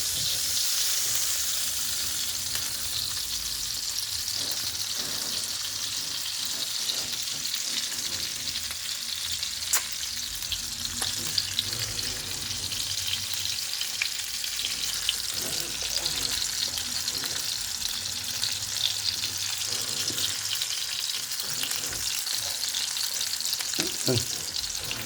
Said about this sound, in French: on va le laisser cuire dans son gras